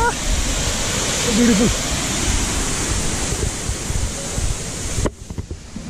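White water rushes loudly at a dam reservoir near Sundarijal, a broad steady roar with a brief spoken word over it, cutting off abruptly near the end.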